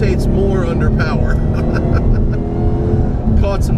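Hennessey HPE750 Mustang engine roaring loud and steady on a race track, a continuous close, dense drone with slight rises in revs throughout.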